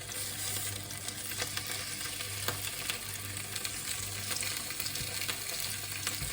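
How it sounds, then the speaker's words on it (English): Food fries skin side down in a pan with a steady, quiet sizzle and occasional crackles over a low hum, with no voices. "I'm going to cook this for 3 or 4 minutes each side. I've got skin side down to start off with."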